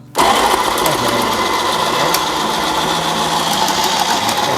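A 300 W food processor with a stainless steel motor runs steadily while chopping cucumber, a loud, continuous buzzing whir that starts abruptly and holds without a break.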